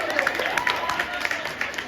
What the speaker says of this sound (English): You might just finish the clapping.